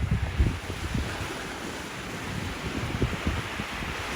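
Waves wash onto an empty beach while wind buffets the microphone, a steady low roar with soft rumbling surges and no voices.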